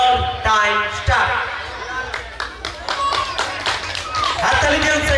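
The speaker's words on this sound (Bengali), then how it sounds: "হাততালি দিয়ে উৎসাহিত করুন।" A village crowd at a Didi No. 1 game contest in Purba Medinipur claps in scattered bursts to cheer on a contestant, sharp hand claps mixed in with someone talking loudly over them.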